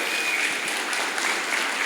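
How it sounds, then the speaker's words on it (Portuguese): Congregation applauding in a church service, a steady dense wash of many hands clapping together, loud and continuous throughout with no break. "Pode aplaudir a Deus por isso?"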